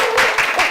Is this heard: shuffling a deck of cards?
no